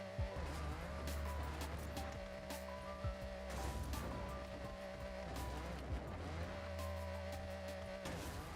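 A Lamborghini driven in the racing game Forza Horizon, its engine revving up and down in repeated rising and falling sweeps with brief tire noise, steady and fairly loud throughout.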